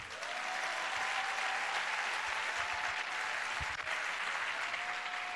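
Congregation applauding at a church service, a dense, steady wash of clapping held at even loudness for several seconds, with no talk over it.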